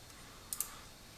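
A computer mouse clicks twice in rapid succession, crisp and quiet against a faint background hiss.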